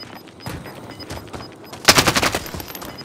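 Gunfire in a military shooter video game: scattered single shots, then a loud rapid automatic burst near the two-second mark, mixed with faint game beeps and background effects.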